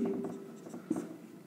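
Pen or marker scratching across paper in quick irregular strokes as an exam answer is written out by hand, close and fairly quiet, with a faint voice murmuring underneath.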